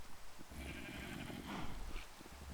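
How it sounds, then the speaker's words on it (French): Sheep in the Minecraft video game giving soft bleats amid a low, steady game ambience, fairly quiet throughout. "Les moutons aussi, on va essayer de ramener."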